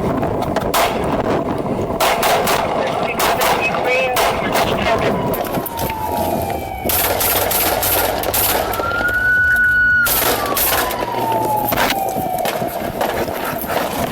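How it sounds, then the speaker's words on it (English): Gunshots ring out in a Walmart parking lot: a string of sharp, loud cracks over dense outdoor noise, with a police siren wailing up and down through the middle. "Shots fired, Walmart parking lot"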